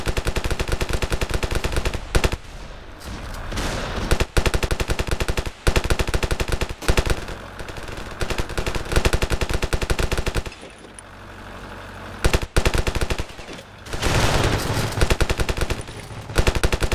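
Rapid automatic gunfire from the video game Ravenfield rattles in long dense bursts, loud and close, broken by short pauses, with single sharper shots mixed in.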